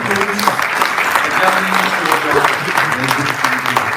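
Applause from the audience at a memorial ceremony, a steady, dense clapping crowd sustained throughout, loud and close, with voices mixed in underneath.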